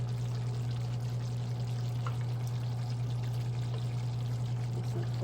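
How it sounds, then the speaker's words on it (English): Water poured from a cup into a pot of Jamaican brown stewed chicken gravy, a steady soft splashing stream held for several seconds over a constant low kitchen hum. "I'll add another cup of water"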